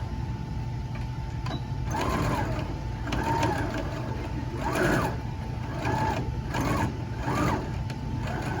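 Steady mechanical whir and rhythmic clatter of a sewing machine stitching a quilted tote strap, running continuously at a close, even level with slight periodic surges.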